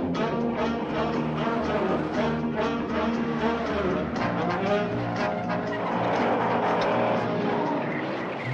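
The 1968 Bullitt car chase plays out with roaring engines and skidding, squealing tires in a dense continuous mix, loud and close throughout, with a voice talking over parts of it.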